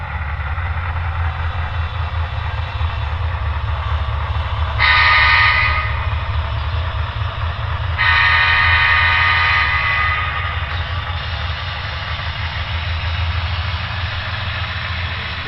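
A Paragon3 AC6000 model diesel locomotive runs steadily with a low droning engine hum, and two brighter hissing bursts rise briefly over the drone, close and fairly loud with no talking.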